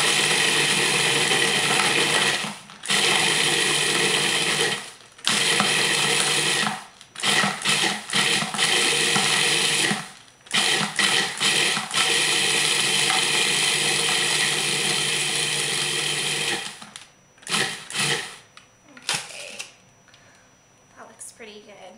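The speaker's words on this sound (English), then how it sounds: "if you have a food processor, just turn the pulse on a couple times so you get that kind of fine consistency" A food processor pulses Oreo cookies into fine sandy crumbs, loud motor whirring in repeated bursts with brief stops, a voice talking over it.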